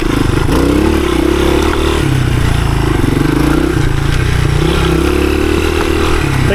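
A 1983 Honda XR200R dirt bike engine running close by, a loud, steady thumping single-cylinder drone with slight rises and dips in revs throughout.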